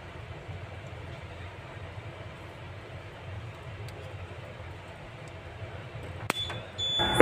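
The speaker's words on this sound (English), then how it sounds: "both visual and audible alarm are very important so that in the event of the power failure, it will draw the attention of the bridge duty officer" A power failure alarm sounds on a ship's GMDSS MF-HF radio after its main power breaker is shut off. A high, steady electronic beep starts near the end over a low continuous hum.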